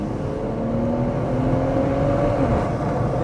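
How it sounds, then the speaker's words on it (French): Tuned BMW 140i engine climbing in revs with a rising turbo whine, a continuous loud drone that sweeps upward in pitch as boost builds, heard from inside the car. "On entend que le turbo il charge."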